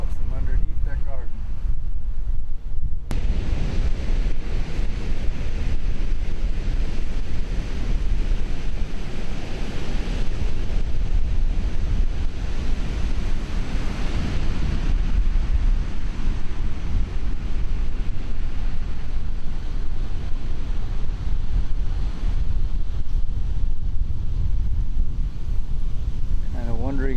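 Water welling up from underground beneath a garden and flowing out as a spring, a steady rushing wash with heavy wind buffeting the microphone, continuous throughout.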